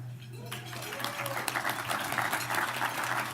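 Banquet audience breaking into applause at an annual installation and awards banquet, a dense wash of clapping that swells quickly and holds steady, filling the room at moderate distance with a low hum beneath.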